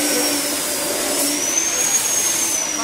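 A mini concrete (dhalai) mixer machine engine runs with a steady, close, high-pitched whine and hum. The drone holds at an even level throughout, with no talking.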